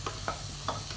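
Onion, ginger and garlic roast in a pan for mutton curry, a soft continuous sizzle broken by a few quick spoon scrapes as the mixture is stirred close up.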